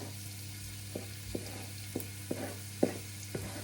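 Chopped onion sizzles in hot avocado oil in a pan, a faint steady hiss with a few soft taps and stirring clicks spaced through it, no voices.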